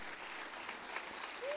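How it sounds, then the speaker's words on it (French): A church congregation applauds at a ceremony honouring a prophet, a faint, distant wash of clapping heard briefly, with a short tonal sound near the end. "Je voudrais qu'on applaudisse Dieu pour ta vie"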